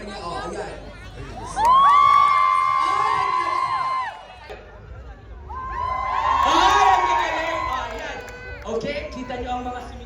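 A festival crowd at the Philippine Festival in Yoyogi Park, Tokyo, shouts and cheers in two loud, sustained bursts, with high-pitched whoops and screams rising together, then fading into chatter between and after.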